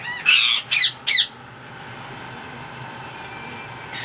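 Indian ringneck parrots in a breeding cage give three loud harsh squawks in quick succession, then fall quiet over a low steady background hum.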